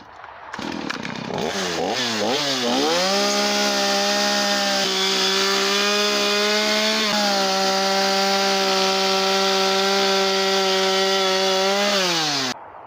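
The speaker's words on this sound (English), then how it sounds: "Now I'm going to go taper in through the jaw and the chin." A chainsaw carves wood, tapering the jaw and chin of a face. The engine revs up in a few wavering bursts, then holds a loud, steady, close whine for about nine seconds before dropping off.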